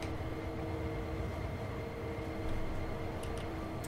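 A steady train rumble with a low droning engine hum from Train Sim World 2, running continuously at moderate level with no talking.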